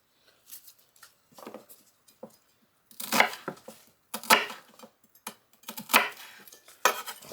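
A knife slices onions into quarter-inch rounds on a board, giving irregular close knocks and crisp cuts with scraping and clinks as pieces are dropped into a cooker; no talking.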